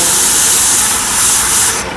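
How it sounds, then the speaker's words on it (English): Sandpaper held against a wooden scoop spinning on a lathe at reduced speed gives a steady, loud, broadband hiss that drops off abruptly near the end. "I just want to sand and get rid of that pencil mark."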